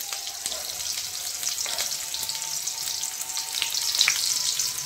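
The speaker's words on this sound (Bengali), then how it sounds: "তেলটা একটু গরম হলে পেঁয়াজ কুচিগুলো দিয়ে দিলাম" Chopped onions fry in hot mustard oil in a kadai, giving a continuous close sizzle with scattered crackles and a sharper spit near the end.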